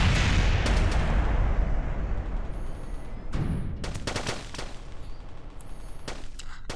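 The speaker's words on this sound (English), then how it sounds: "30mm chain gun." A 30mm chain gun fires in Kerbal Space Program, loud rapid bursts of heavy booming shots repeating in clusters with a rumbling low end and no talk over it.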